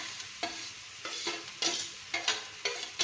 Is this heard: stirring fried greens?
yes